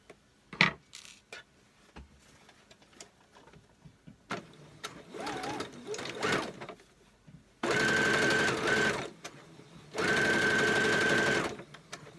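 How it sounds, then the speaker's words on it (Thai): A sewing machine stitching fabric while a large shirt is resized smaller, with two sustained loud whirring runs of stitching near the end, preceded by quieter handling clicks and brief murmured talk. "นี่ก็เย็บเลย"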